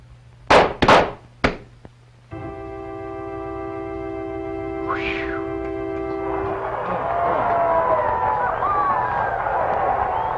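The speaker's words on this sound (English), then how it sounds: "All right, prepare to fire." Gunshots fired on command at a 1952 trick-shooting marksmanship exhibition: three or four sharp, loud cracks in quick succession open the scene, followed by a steady tone and a rising crowd murmur.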